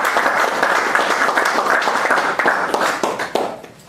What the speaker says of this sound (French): Si vous êtes avec moi, acclamez juste pour vous-même.